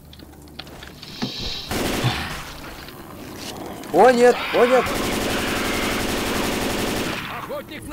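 Machine gun fire in the zombie shooter Left 4 Dead 2, loud rapid bursts with a long continuous stretch of fire, while a voice speaks briefly over it.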